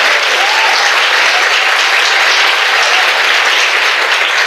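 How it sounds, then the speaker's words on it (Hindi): A large church congregation claps for the Lord in sustained, loud, even applause, many hands blending into a thick constant roar that neither swells nor fades. "क्या हम प्रभु के लिए अच्छी ताली बजा सकते हैं?"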